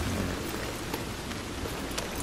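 Steady rain in the Red Dead Redemption 2 game world, a soft, continuous hiss of falling drops with a few brief crackling splashes over it.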